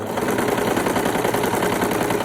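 A home sewing machine in poor condition runs in a fast, even mechanical chatter, close and steady throughout.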